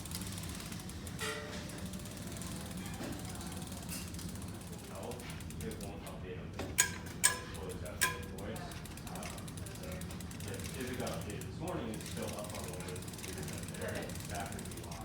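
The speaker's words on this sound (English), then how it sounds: "A fast way to do this is just back pedal." Bicycle freewheel ratcheting steadily as the cranks are back-pedaled to thread a pedal into the crank during a home bike build, a continuous close clicking with a few sharper knocks.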